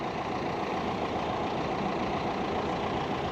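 A Garda police car with its engine left idling, a steady low rumble that holds constant and fairly close throughout, with no voices.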